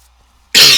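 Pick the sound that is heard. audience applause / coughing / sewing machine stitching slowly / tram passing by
coughing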